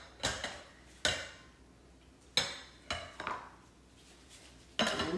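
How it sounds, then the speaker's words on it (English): Baked beans being scraped and transferred into a mixing bowl, with a series of sharp clinks and clatters of a utensil against the bowl at irregular intervals, close and fairly loud between quieter scraping, with no talking. "we will transfer the baked beans to a mixing bowl here"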